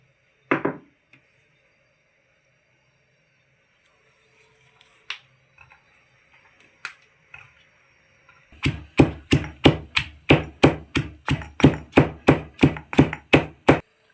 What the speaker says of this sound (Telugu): ఇవి ముందు దంచుకుందాం.